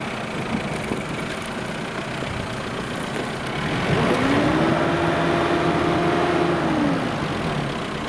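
Mitsubishi 4x4 engine running off-road in rear wheel drive, a steady low drone that swells louder midway with a rising then sustained tone as it strains, with no talking.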